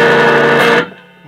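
An electric guitar plays through the drive channel of a Fender Hot Rod Deville amp: a loud distorted chord rings out, then is cut off and leaves a short decaying tail.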